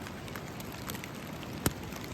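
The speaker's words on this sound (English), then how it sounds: "right now it's raining" Steady rain falls in the wilderness during a backpacking trip, a continuous broadband hiss of drops with one sharp louder tap near the end, no voices.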